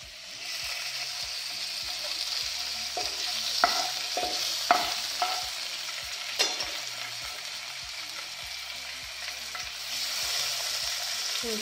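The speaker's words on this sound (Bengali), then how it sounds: "ভালো করে চিংড়ি মাছটা ভাজা হোক" Prawns and pomfret fish fry in a pan with a continuous loud sizzle, punctuated by several sharp clanks and scrapes of stirring.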